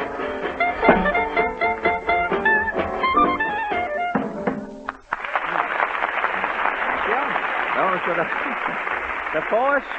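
A studio audience applauds after an amateur contest on a 1936 radio broadcast, a full, steady wave of clapping that swells in after music and a voice over the air.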